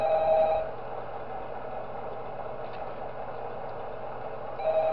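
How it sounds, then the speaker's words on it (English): A video game telephone rings in Shadow Chaos Pizzeria at the start of Night 6. Thin ringing tones sound at the beginning and again at the end over a steady low mechanical hum. "Do we get a phone call? Yes,"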